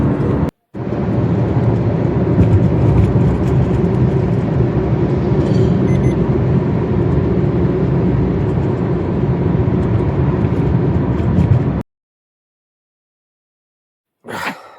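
A car cruises along an expressway toward the Khopoli toll plaza. A loud, steady roar of road and engine noise continues for about twelve seconds, then cuts to silence before a brief return.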